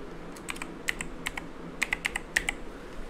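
Typing an email address on a computer keyboard, a quick, irregular series of close, crisp key clicks in short bursts, alone without talk.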